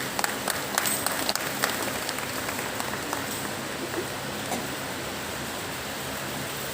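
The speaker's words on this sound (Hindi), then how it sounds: "परमेश्वर का धन्यवाद है कि सबको इतने से जोरदार तालियां बजाएं।" A seminar audience at a church women's fellowship applauds: dense, continuous clapping that fills the room at an even level throughout.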